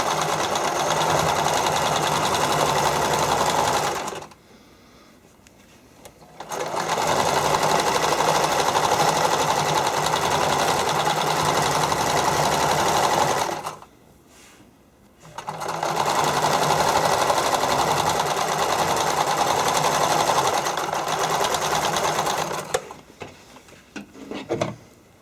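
A sewing machine stitching fabric soakers for figure skating blades, running in steady loud bursts of several seconds each, separated by short pauses.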